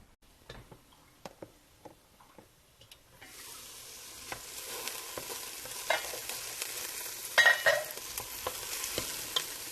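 Ingredients for a creamy chicken pasta soup sauté in stainless cookware. A few quiet clicks give way to a steady, close sizzle that builds and holds to the end, with occasional sharper crackles and pops.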